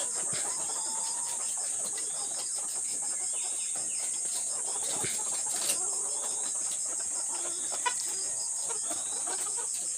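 Layer chickens cluck steadily on a farm, a continuous flock chatter with occasional louder calls over a constant high insect-like hiss, no talking.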